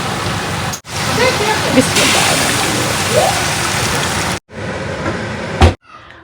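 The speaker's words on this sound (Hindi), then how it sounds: "अभी जल्दी से जी ऐड करते हैं पकता हुआ गरम गरम पानी।" Hot boiling water is poured into a pan of fried kofta masala, a loud sizzling, splashing rush that runs for several seconds, breaks off briefly, then resumes in shorter bursts.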